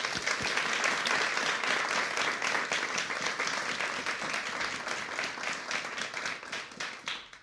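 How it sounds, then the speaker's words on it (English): Sustained audience applause at a solar eclipse science briefing, many hands clapping in a dense, lively wash with distinct individual claps audible, continuing for over seven seconds and tapering slightly toward the end. "Can we have a round of applause for the scientists, please?"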